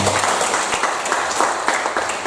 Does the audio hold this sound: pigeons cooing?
no